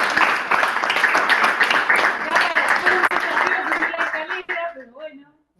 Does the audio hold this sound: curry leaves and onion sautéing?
no